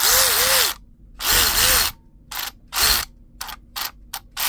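A Milwaukee M12 3/8-inch cordless ratchet clicks close up in a series of bursts: two longer runs, then several short, choppy spurts separated by brief silences.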